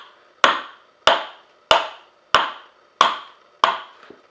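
A blade chips into a wooden board while a Mastermyr-style Viking tool box is being made: six sharp, evenly spaced strikes, each with a short ringing decay, close and clear with no talking.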